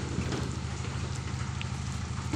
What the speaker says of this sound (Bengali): খুব বৃষ্টি আসছে,